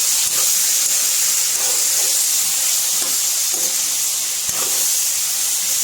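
Pickle ingredients fry in a pan while being stirred, a steady close hiss and sizzle running throughout with faint scraping stir sounds.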